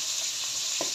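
Pomfret fish fries in a pan with a continuous close sizzle, fairly soft, and a brief light clink of utensil near the end; no one speaks.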